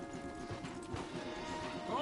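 Horse hooves clip-clop steadily in Red Dead Redemption 2 as riders head into the trees before dismounting, a soft, close rhythmic clatter beneath voices.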